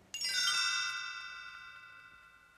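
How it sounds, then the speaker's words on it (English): A single bright chime rings out clearly and alone as a page-turn signal for a read-along of the Three Little Pigs. Several tones strike together and then fade slowly over about two seconds. "You will know it is time to turn the page when you hear the chimes ring like this."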